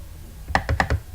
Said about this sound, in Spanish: dando doble clic